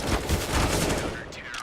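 Pistol gunfire in a competitive video game match, a dense flurry of sharp shots blending into a continuous loud burst, with faint talk underneath.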